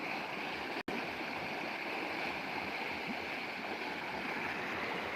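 Floodwater rushes fast across a village road after heavy rain, a steady, dense roar of moving water with no pauses, close and continuous throughout apart from one brief dropout.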